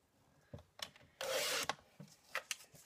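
Paper trimmer blade slides along a sheet to cut off excess paper at the side, one half-second rasping swipe among soft handling taps and rustles, close and fairly quiet.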